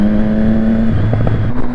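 Road traffic with a car engine droning close by, its pitch shifting midway as vehicles pass, heard from a bike rider's position behind slow traffic; steady and loud, with no talking.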